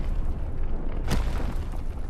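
An explosion in the video game Winds of Valen gives a single brief boom just past the midpoint, rising out of steady low rumbling ambience.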